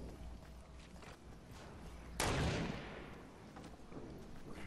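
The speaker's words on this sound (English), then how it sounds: "Who's he still shooting at?" A single heavy gunshot blast rings out in a Fortnite duo match, loud and sudden with a decaying rumble, amid faint background game noise.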